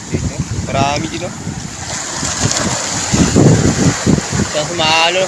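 Sea waves slapping and splashing against a small boat out on the water, with gusty wind buffeting the microphone and irregular bursts of spray, loud and close, while voices call out briefly in between.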